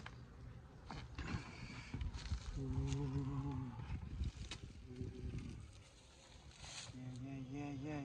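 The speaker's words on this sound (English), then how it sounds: "Look at all those bees right down in there." Honeybees buzz in short humming bursts from an opened hive box during a first spring inspection, quiet and close, with handling noises and occasional faint voices around them.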